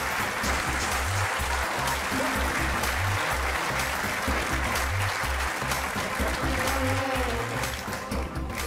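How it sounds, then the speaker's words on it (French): Continuous audience applause for a magic act on a French comedy variety show, a dense and loud roar of clapping with music playing beneath it throughout. "On applaudit Ali Copperfield"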